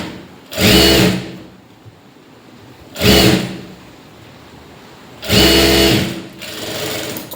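A sewing machine stitches a lined blouse in three separate loud bursts of rapid whirring, with quiet pauses between runs.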